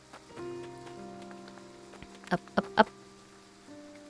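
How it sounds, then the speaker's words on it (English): Soft, steady rainfall in the video game Triangle Strategy, a faint hiss under game music and tones, with a few brief louder taps and a single short spoken word. "The rain is dampening everyone's spirits."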